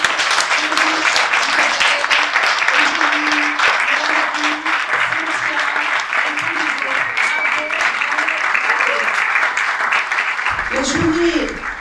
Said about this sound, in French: vous allez leur faire un tonnerre d'applaudissements